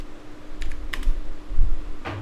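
A few quick clicks of typing on a computer keyboard while entering a command in a Linux shell, close and fairly quiet over a low steady background hum.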